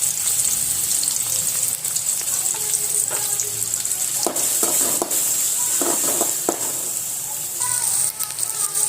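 Finely chopped onion sizzles in two spoons of hot oil in a kadai, a loud steady frying hiss with intermittent stirring scrapes and clinks as the pieces are moved around.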